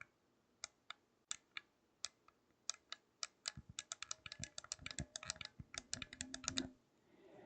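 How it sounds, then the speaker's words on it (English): Sharp clicks from a micro-switch D-pad on a game controller, sparse single presses at first, then quickening into a rapid irregular clatter; close and fairly quiet with no voices. "That is a clicky D-pad, except it's not a D-pad. It's a micro switch style D-pad"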